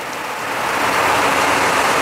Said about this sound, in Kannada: ನೋಡಿ ಯಾವ ಥರ ಮಳೆ ಬರ್ತಾ ಇದೆ